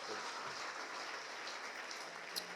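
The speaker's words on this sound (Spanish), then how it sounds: "Denle un aplauso al Señor" A church congregation claps in a dense, steady patter that fills the whole stretch at moderate distance, with no voices rising above it.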